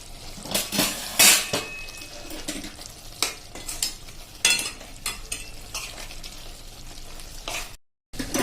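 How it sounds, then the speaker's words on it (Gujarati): Garam masala is stirred into a spiny gourd curry cooking in a pan, with repeated close scrapes and clinks of a spoon against metal over a soft sizzle, strokes coming in irregular bursts. "1 ટીસ્પૂન જેવો આપણે ગરમ મસાલો નાખશું અને એને આપણે સરસ એવું મિક્સ કરી લેશું"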